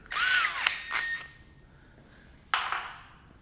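A power driver with a 1/4-inch bit whirs in two loud bursts, driving painted hex head screws through a window mullion, the motor pitch rising and falling, with a thin tonal whine lingering between.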